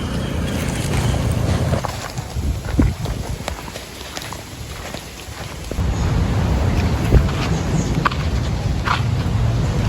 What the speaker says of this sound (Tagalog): Tawid na tayo ng bangka.